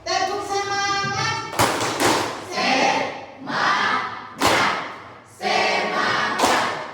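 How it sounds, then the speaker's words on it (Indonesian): A school chemistry class performs a rhythmic spirit clap in unison, loud grouped claps and thumps in a steady pattern, mixed with voices chanting along between the beats. "Tepuk semangat dulu. Tepuk semangat."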